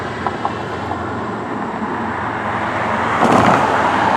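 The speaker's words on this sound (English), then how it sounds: "Here comes the southbound train," Southbound CN freight train drawing near on a township line, a steady broad rumble of rolling wheels and traffic-like roar swelling louder toward the end, heard from trackside.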